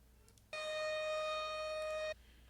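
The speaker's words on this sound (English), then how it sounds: "A deep, bellowing siren." A sustained, droning siren-like tone holds steady for about a second and a half, then cuts off abruptly, standing alone against faint background noise.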